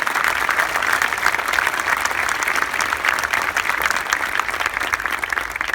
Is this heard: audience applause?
yes